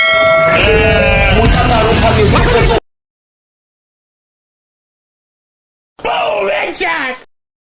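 A phone ringtone of a ram bleating, loud and close, in two bursts: a long one, then a few seconds of silence, then a shorter one.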